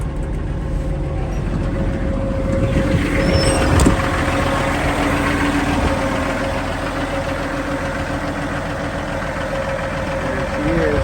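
A 2010 Peterbilt 389 diesel truck with a wet kit idles steadily outdoors, a loud, continuous rumble under brief talk, with the idle raised slightly.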